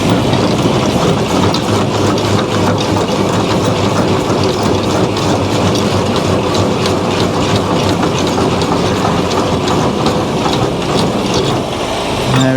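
Trailer landing legs are wound down with a steady mechanical ratcheting clatter, continuous and fairly loud over the constant drone of a nearby running truck engine.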